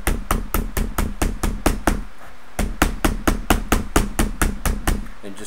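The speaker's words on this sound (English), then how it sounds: "what I'm doing is just an old-fashioned hammer. I'm going to start tapping that in around the outside edge." Old-fashioned hammer tapping the thin metal edge of a homemade alcohol stove, rapid steady blows in close succession with one short pause, loud and near, ringing sharply with no talking.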